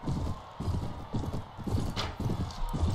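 Horse hooves in the medieval Mount & Blade: Warband game clip-clop in a fast, steady galloping rhythm, loud and close throughout with no break.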